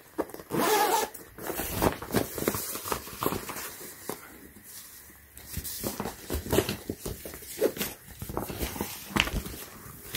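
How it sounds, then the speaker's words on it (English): A zipper on a waterproof nonslip car seat protector is pulled open in several rasping strokes, close and fairly loud, with rustling fabric and handling noise in between. "And there's also a zipper right here"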